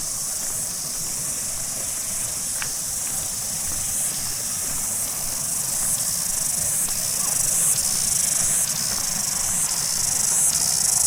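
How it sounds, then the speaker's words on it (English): Cicadas singing at Hunua Falls in the Hunua Ranges, New Zealand, near the base of the waterfall: a steady high, shrill buzzing drone that holds throughout, layered over a constant low rush of falling water. "Oh look, there's a couple of cicadas on this tree."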